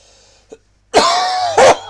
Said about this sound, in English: This bloody cough.